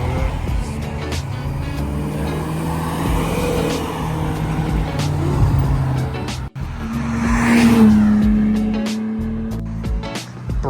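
BMW cars pull away together from the GermanFest meet in Poland, engines revving and droning close by, with tire squeal and a rising whine as cars accelerate and pass.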